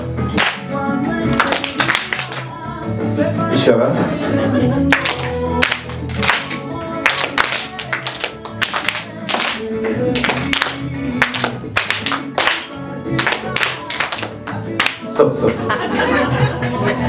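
A group of students at a tango class clap their hands together in sharp, loud bursts, the claps falling in uneven clusters over steady background music, with voices talking and chuckling in between.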